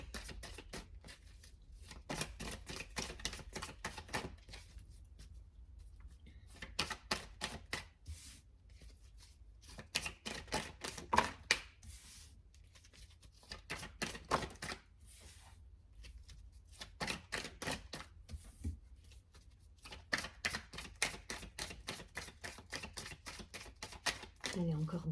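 Oracle des miroirs cards being shuffled and drawn during a tarot-style reading, giving quick bursts of crisp card riffles and slaps in clusters, separated by quieter pauses, with soft talk in between.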